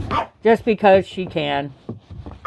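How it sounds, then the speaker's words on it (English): A dog barks several times in quick, sharp bursts close by, mixed in with a person talking over it. "Yeah, so she's going to be barking for a minute."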